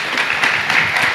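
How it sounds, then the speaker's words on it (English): An audience applauding panelists at a gaming-market conference session, a short, loud, dense burst of clapping with no voices over it. "A round of applause to the panelists."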